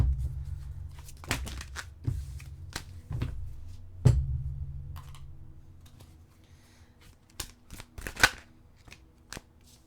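Tarot cards shuffled by hand, several quick riffling bursts and soft card slaps spread across the stretch, close and fairly quiet, with low background hum and no speech.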